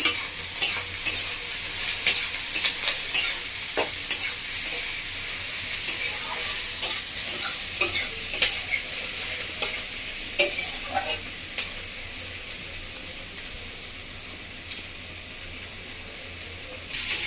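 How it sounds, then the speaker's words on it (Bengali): Soybean chunks fry with chicken in a pan, village style, as a spoon stirs and scrapes in quick irregular clacks over a sizzling hiss; the stirring thins out toward the end, leaving mostly a softer sizzle. "আমরা 3-4 মিনিট মতো নাড়াচাড়া করে নিয়েছি।"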